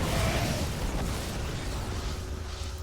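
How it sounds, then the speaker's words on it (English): Heavy EMP blasts from a StarCraft 2 pro match at DreamHack SC2 Masters 2022 Valencia, a dense continuous rumbling boom with crackling electrical texture, loud and sustained from start to finish, no talk. "some EMPs go down, and the EMPs are massive!"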